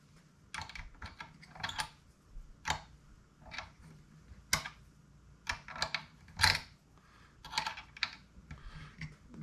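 Sharp clicking and ratcheting from a wrench tightening the pedal force adjustment on a VKB T-Rudder MK.IV rudder pedal set, a string of close, irregular metallic ticks in bursts.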